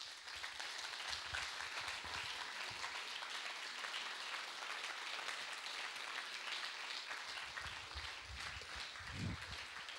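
An audience at a French public event applauds steadily, a dense, even wash of clapping that holds at a moderate, slightly distant level for the whole stretch with no voices over it.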